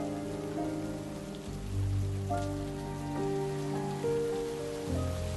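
Steady rain patters on a surface throughout, with soft sustained musical tones beneath it.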